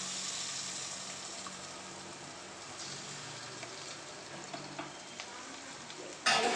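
Garlic paste and chilli fry in a pan while being stirred, giving a steady close sizzle with small scraping clicks, then a louder clatter at the very end.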